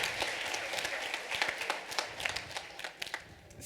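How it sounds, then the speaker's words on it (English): Audience applause at a school fall play, a steady patter of many hands clapping at moderate distance throughout, without pause and with no talk over it. "Round of applause for our audience member here"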